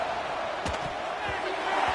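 A stadium crowd in the College Football 26 video game sends up a continuous loud roar that rises slightly toward the end, with a few brief low thumps and a commentator talking over it.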